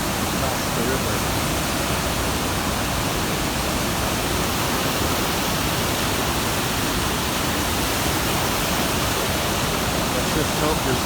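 Iguazu Falls on the Brazil–Argentina border roars as a massive waterfall, a steady, loud broadband rush heard from a bridge across the river, constant throughout with no gaps.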